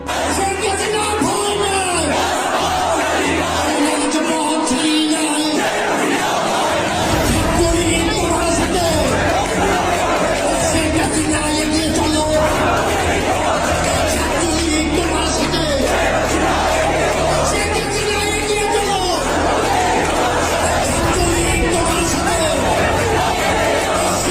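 A large crowd at an Awami League gathering in Bangladesh chants and shouts slogans, a dense, loud babble of many voices with yells and whoops rising throughout.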